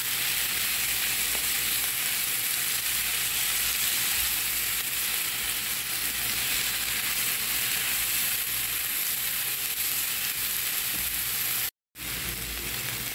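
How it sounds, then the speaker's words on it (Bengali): Stalk greens (data shak) fry with browned onion in a pan, giving a loud, unbroken sizzle that runs throughout, cut off by one brief silent gap near the end. "এখন পেঁয়াজের সাথে শাকটা ভালো করে ভেজে নিব"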